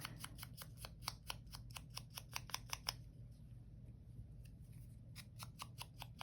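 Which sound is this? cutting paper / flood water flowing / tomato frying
cutting paper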